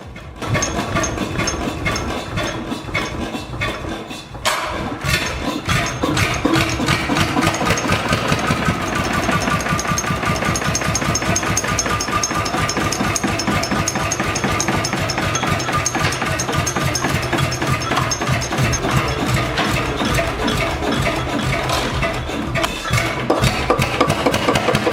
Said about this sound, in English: With a tough two-cylinder engine pumping out 12 horsepower, it digs into heavy soil like it's nothing.